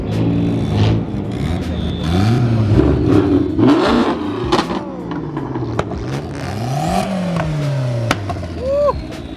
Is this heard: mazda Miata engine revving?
yes